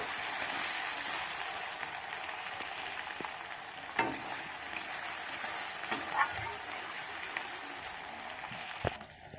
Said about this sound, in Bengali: পেঁয়াজগুলো হালকা করে একটু ভেজে নিচ্ছি।